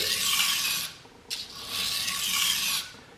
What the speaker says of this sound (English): And I'm going to keep sharpening on this side until I've reached an apex